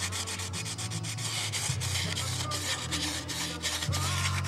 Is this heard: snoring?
no